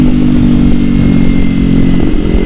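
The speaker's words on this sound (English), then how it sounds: "these lower gears where you just really gotta wind everything out" A Kawasaki Ninja 300 motorcycle engine revs hard through the lower gears. The buzzing roar is loud, close and continuous, with no talking over it.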